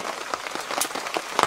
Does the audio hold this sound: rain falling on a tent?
yes